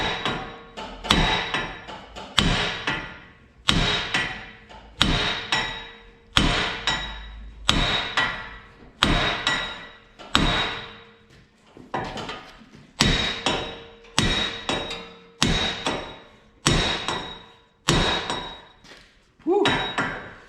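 Heavy metal hammer blows strike a Range Rover wheel bearing and hub joint, about fifteen loud ringing impacts at a steady, forceful pace, each with a clanging metallic tail, close up and without speech.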